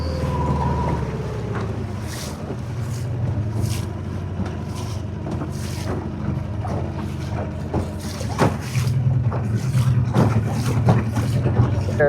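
A boat planing at speed across water off Grenada with a steady engine roar, rushing wind and slapping spray; voices are faintly audible beneath the noise.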